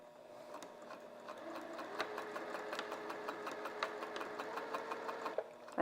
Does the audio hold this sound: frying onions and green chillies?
no